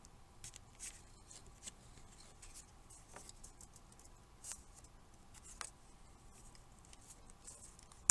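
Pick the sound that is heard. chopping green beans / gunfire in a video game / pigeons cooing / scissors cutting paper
scissors cutting paper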